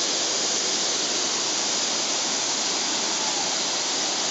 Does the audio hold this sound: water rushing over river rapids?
yes